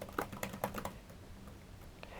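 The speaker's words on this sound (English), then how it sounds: "let's take a look at how the keyboard feels before I power the computer on" Fingers tap on the keyboard of a 2014 Dell Inspiron 15 laptop, a quick run of soft, close key clicks that thins out into a few scattered presses in a quiet room.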